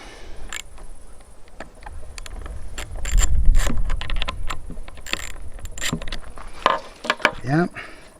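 Small metal nuts being worked off the carburetor of a Stihl 028 AV chainsaw, giving a run of sharp clicking and ratcheting taps, close and irregular, with some scraping and a brief squeaky rising tone near the end.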